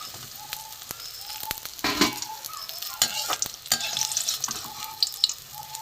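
Prawn fritters in gram-flour batter frying in hot oil, a steady close sizzle with crackling pops and bursts of stirring and scraping in the pan, no talking.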